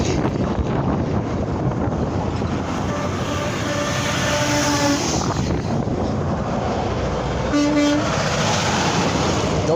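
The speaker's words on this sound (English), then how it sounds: "Oh, we got a Freightliner." Freightliner truck horn sounding on Route 287: two loud blasts over heavy passing-traffic rumble and wind buffeting the microphone at the roadside.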